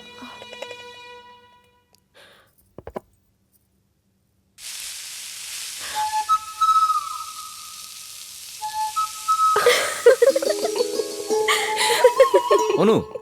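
Clothes iron steaming over a dosa being made with it, a broad hiss and sizzle starting midway after quiet moments, with voices and a few knocks around it.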